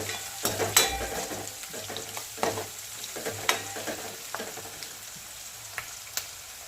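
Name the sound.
garlic frying in a pan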